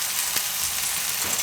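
Coriander-cumin powder and red chili powder added to hot oil in a pan for a Gujarati red chili and turmeric curry, with a steady close sizzle and faint clinks of a spoon, no voices.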